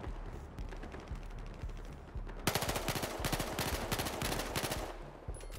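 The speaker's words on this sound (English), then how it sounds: "One guy's shooting at him already." Automatic gunfire in the cop-and-robber shooter Battlefield Hardline during a heist match: quieter scattered shots at first, then a loud sustained burst of rapid rounds for about three seconds before it fades.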